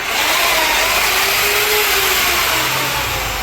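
An epoxy floor polishing machine runs at a high 3000 rpm over an old epoxy floor, a loud, steady motor roar with a broad whirring hiss that holds constant throughout, with no voices.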